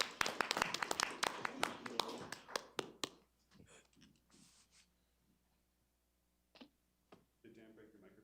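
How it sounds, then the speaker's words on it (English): Applause rings out at a city council meeting in Oldsmar, a dense burst of clapping for about three seconds that thins to scattered claps and fades, followed by faint room noise and brief talk. "You can give him some applause."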